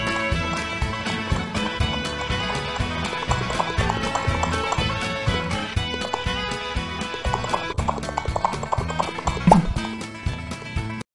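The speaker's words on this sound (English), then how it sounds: "Ride hard, horsey. Giddy up." A horse galloping, its hooves striking in a fast regular clip-clop rhythm over a bed of music, loud and steady all the way through.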